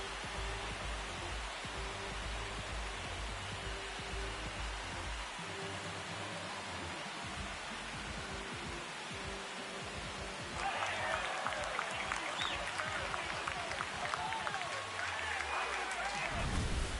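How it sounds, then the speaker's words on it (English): Baseball stadium crowd in an MLB video game, a broad wash of cheering that swells louder partway through and holds, with a commentator speaking over it. "Here comes the crowd."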